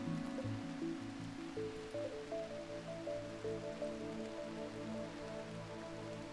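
Rain falling in the video game RimWorld, a steady soft patter of drops on surfaces that continues without a break under low droning game sounds.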